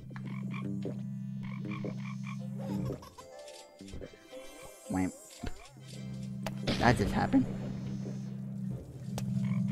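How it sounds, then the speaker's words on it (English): Frogs croak in a video game in steady low repeating trills, with game sounds and someone talking over them. "I can guide my frog to the Mondo for the attacking of the frogs."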